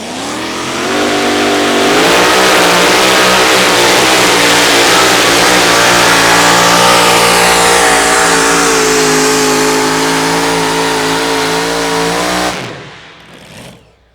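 A two-wheel-drive outlaw pulling truck at a Wisner, Nebraska tractor pull roars at wide open throttle, loud and sustained with rising harmonic engine tones for about twelve seconds before cutting off and fading.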